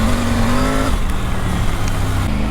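A Triumph Tiger 900 Rally Pro adventure motorcycle engine roars continuously and loudly while riding off-road, a steady buzzing drone with rushing wind noise and a slight drop in pitch partway through.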